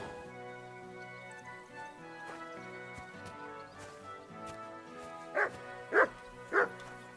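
Three sharp dog barks in a row near the end, evenly spaced, over steady tonal background music, from the video game Kingdom Come: Deliverance II.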